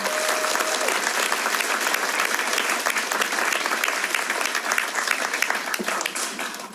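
An audience claps steadily and loudly for several seconds, a dense continuous patter of many hands that fades slightly at the end.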